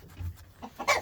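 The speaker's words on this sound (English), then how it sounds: "I haven't picked up a chicken in a while." A chicken being handled outdoors after a snowfall gives short clucks that grow louder toward the end of a brief moment, heard close.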